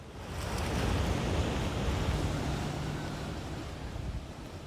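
Gentle waves breaking on a small sandy East Sea beach beside a breakwater, a steady broad wash of surf that swells and slowly eases, with no voices.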